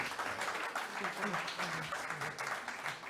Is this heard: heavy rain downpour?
no